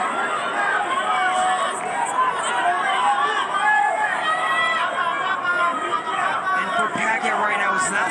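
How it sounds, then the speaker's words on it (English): Dense boxing arena crowd at a Pacquiao versus Barrios fight, a loud continuous roar of chatter and cheering with no clear breaks throughout. "Just listen to that crowd."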